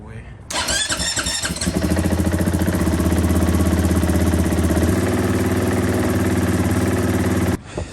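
A 2022 KTM 500 motorcycle engine fitted with a JD tuner catches with a burst, then settles into a steady, throbbing idle close by, cutting off abruptly near the end.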